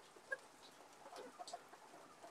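Native hens cluck softly inside a village hen house while eggs are checked, giving scattered short calls at moderate distance over a faint background of movement.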